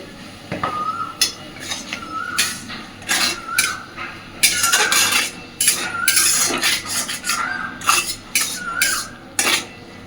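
A vegetarian taro stolon curry is stirred in a pan, with repeated scraping strokes and metallic clinks of a spatula against the cookware, irregular and close.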